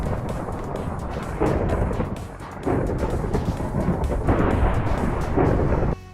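Thunder rumbles from lightning in the video game Minecraft, a deep, continuous roll that swells in heavy surges with rain-like hiss mixed in.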